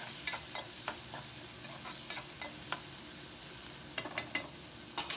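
Onions dropped into hot cumin tempering fry softly in a pan, a low steady sizzle punctuated by a string of sharp spoon clicks and scrapes as they are mixed, close by with no voice.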